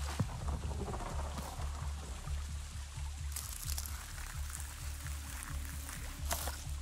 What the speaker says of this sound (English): I think it's actually the rain that's breaking the game